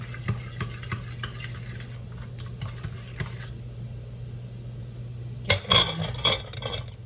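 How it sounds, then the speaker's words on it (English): Oil being whisked into a batter of eggs and brown sugar in a bowl, with quick rhythmic scraping and tapping of the whisk against the bowl, a low steady hum underneath and a louder clattering burst near the end. "I'm gonna mix this in."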